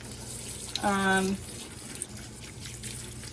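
Water poured onto a newly repotted houseplant, a short close trickle and splash lasting about half a second amid quiet room noise.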